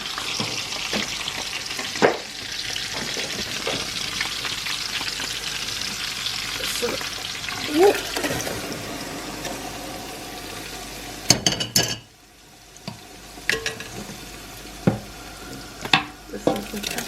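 Pepper and crayfish fry in a pot while being stirred, a constant close sizzle with scattered scrapes and clinks of the utensil against the pot, a brief quieter pause near the end.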